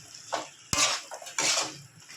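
Green jackfruit pieces drop into a pan of spice masala, producing a few sharp clattering thuds of metal and food against the pan, close and brief.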